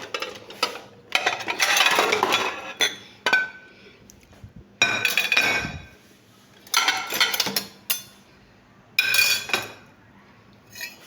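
A plate and metal utensils clink and scrape while rice and peas are served at home, in loud repeated bursts with short quiet gaps between them.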